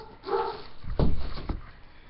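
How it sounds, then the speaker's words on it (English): A couple of dog barks, somewhat distant and muffled, sound over low background noise, one sharp bark followed by another half a second later. "loud barks in the background due to my animals downstairs"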